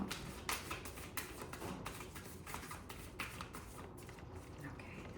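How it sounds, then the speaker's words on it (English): A deck of tarot cards shuffled by hand, a quiet, steady run of soft taps and riffles close by with light background noise throughout. "No, one more shuffle."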